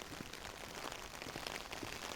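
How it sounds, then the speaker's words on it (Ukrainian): Rain falls steadily outdoors, a faint, even patter of drops spattering on surfaces with no voices. "Е, дощ як ви чуєте, да?"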